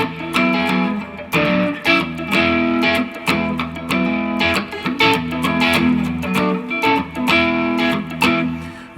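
Distorted electric guitar strums a repeating chord progression loop, dense and loud, with rhythmic accented attacks driving steadily throughout.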